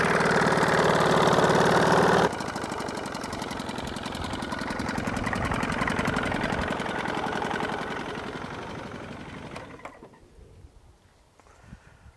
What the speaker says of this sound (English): So it does sound like there's a motor mount that's maybe a little wonky